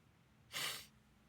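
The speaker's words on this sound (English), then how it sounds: "Excuse me for sniffling, I'm getting over a cold." A single short, breathy sniff from someone getting over a cold, close and moderately loud, in otherwise quiet surroundings.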